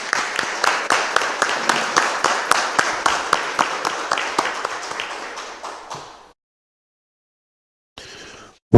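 A council session audience applauds presenters, a steady run of claps that thins out and stops after about six seconds, followed by a brief burst of tapping.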